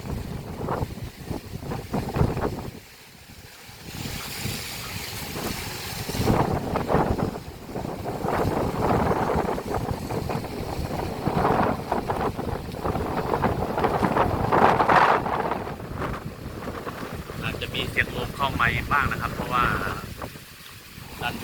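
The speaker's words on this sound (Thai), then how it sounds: "นนี่ลมแรงจริงทุกคน" Strong wind roaring and buffeting the microphone nonstop at a rooftop garden park as rain begins, loud and gusty, with a voice speaking now and then beneath it.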